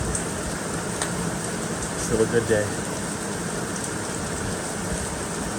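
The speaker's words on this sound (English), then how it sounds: "Sound of rain on the roof puts me out every time." Rain patters steadily on a roof in a soft, even hiss, with someone speaking briefly over it partway through.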